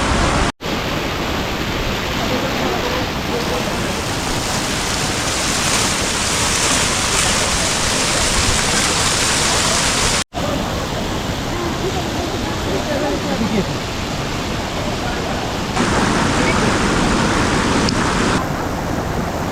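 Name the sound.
waterfall, water rushing down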